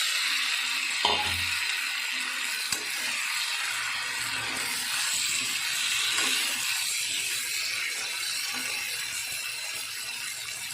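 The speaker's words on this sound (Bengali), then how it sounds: "এবার আগে থেকে ভেজে রাখা আলুগুলো দিয়ে দেবো" Pre-fried potatoes drop into hot oil in a pan for a vegetarian aloo dum: a brief thump, then a steady, loud, close sizzle and crackle that continues evenly without talk.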